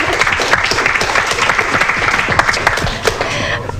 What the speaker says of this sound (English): Give a round of applause for them for the whole summer helping out with you guys.